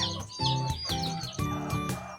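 Laying hens cluck and call repeatedly while being fed, a close, steady chorus of rhythmic clucks with no talking.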